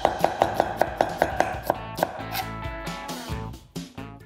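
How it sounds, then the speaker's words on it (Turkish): A knife cuts half a dry onion into thin slices on a board, with a quick, steady run of about a dozen crisp chops, then looser, uneven cuts toward the end, close and clear with no talking. "Hemen ince ince doğruyorum"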